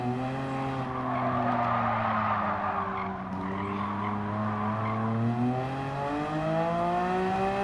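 A Porsche 911 GT3 in Gran Turismo 7 gives a steady, loud engine drone whose pitch glides up and down through the gears, with a squealing edge as it brakes, sounding continuously with no voices.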